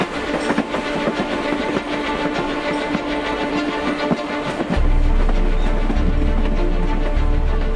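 A Mumbai local train runs between Mira Road and Virar, its steady rumble and clattering wheels loud and close, with a heavier low roar rising partway through, and no talking.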